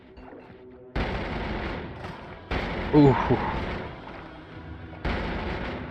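Cannon fire from an enemy in the Noita video game: a few sudden loud blasts with noisy, crackling tails, one after another, plus a brief exclamation from a player.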